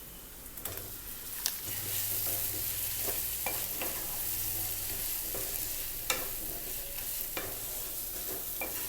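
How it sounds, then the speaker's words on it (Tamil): Eggplant pieces sauté in a pan for a kuska gravy, oil sizzling steadily underneath while a spoon scrapes and stirs in scattered sharp strokes, close and fairly quiet. "கத்திரிக்காய் சேர்த்துட்டு நல்லா வதக்கிக்கலாங்க."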